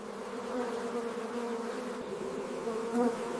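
Honeybees buzzing around a beehive, a dense continuous droning hum close by, swelling slightly near the end.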